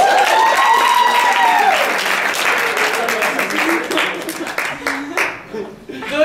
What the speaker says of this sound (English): Clap it up for Human Props.